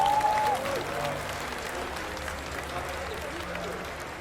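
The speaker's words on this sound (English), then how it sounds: "Make some noise for PartinG." An esports final crowd at DreamHack applauds and cheers in a sustained wash of clapping that slowly fades, with a commentator's voice heard briefly near the start.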